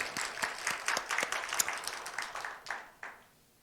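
A church congregation claps together during a Sunday afternoon service, a lively round of hands that gradually thins and fades out near the end.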